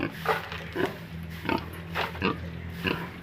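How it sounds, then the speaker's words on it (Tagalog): A pig grunts and snorts repeatedly in short bursts, close by, over a steady low background hum. "Baboy."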